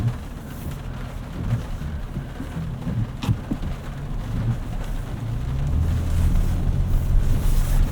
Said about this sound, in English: A little bit of a water crossing here.